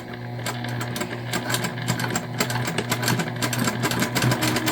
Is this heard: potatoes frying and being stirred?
no